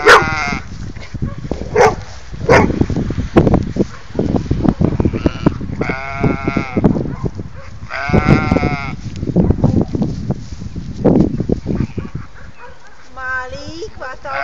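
Sheep bleating repeatedly at close range while a dog barks in short bursts, set among farm livestock, with people talking loudly between and over the animal calls.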